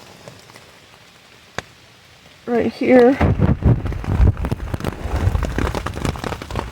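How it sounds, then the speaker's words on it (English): Steady rain patters onto a tent on an Appalachian Trail thru-hike, the pelting building and continuing loudly beneath someone talking close by. "The rain is coming right down on it."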